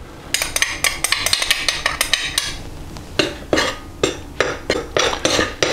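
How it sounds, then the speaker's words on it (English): Dry crumpet ingredients are mixed together in a bowl, with a bright run of quick metallic clinks and scrapes from a utensil against the bowl, then a few louder, slower strokes, close up and with no voices. "add all of the dry ingredients together first, just to make sure that everything gets well combined"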